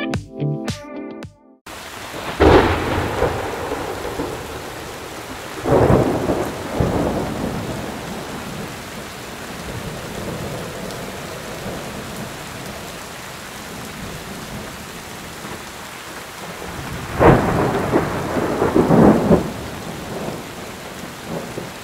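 Steady rain and rolling thunder in the video game Assassin's Creed Mirage, with loud thunder swells near the start and again late, over a continuous wash of rainfall, and no talking.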